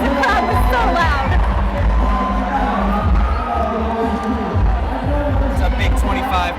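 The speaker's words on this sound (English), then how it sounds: "I can't even hear myself right now because the crowd was so loud" Loud, dense crowd roar and cheering fill an indoor climbing competition hall, sustained throughout with whoops and babble rising and falling, no single voice standing out.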